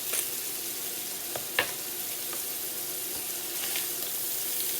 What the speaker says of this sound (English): we're cooking at temperature 275 on the New Wave stove top